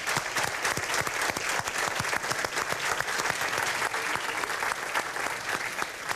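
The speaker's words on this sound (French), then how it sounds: "On les applaudit." An audience at the Desjardins Vaudreuil-Soulanges annual general assembly applauds as board members are introduced, a dense, steady patter of many hands clapping for several seconds at moderate loudness.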